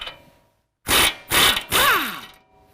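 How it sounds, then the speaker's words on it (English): A ratchet with a 21mm socket works on a tie rod nut of a 2017 Ford Raptor, three loud, quick bursts of clicking close up, separated by short pauses. "we're going to use a 21mm socket to remove the nut holding on our tie rod."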